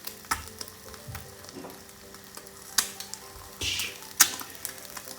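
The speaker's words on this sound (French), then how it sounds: "il nous manquera juste à mettre nos œufs qui sont en train de cuire dessus" Eggs frying in a pan for a sandwich, a soft continuous sizzle broken by scattered clicks and taps of a utensil and a short louder hiss near the end.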